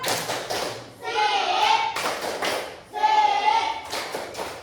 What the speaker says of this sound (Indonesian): Nah, sekarang kita beri tepuk salut.